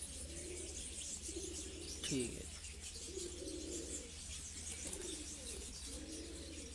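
Racing pigeons coo in soft repeated rolling phrases at a loft, under steady background hum, with a brief spoken word and a sharp chirp partway through.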